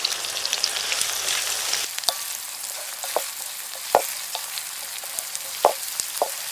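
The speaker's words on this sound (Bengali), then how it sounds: "তেজপাতা দিয়ে দেবো" Bay leaves dropped into hot oil in a pan, a steady crackling sizzle with a few sharp pops and clinks of a spoon scattered through it, with nobody talking.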